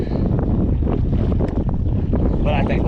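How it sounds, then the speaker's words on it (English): Steady wind buffets the microphone on open water while fishing for redfish at high tide along a grass line, a loud continuous rumbling roar with a brief faint whistle near the end. "The wind's blowing just enough to annoy me."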